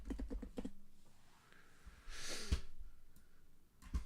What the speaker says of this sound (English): Now, I gotta type in the password correctly.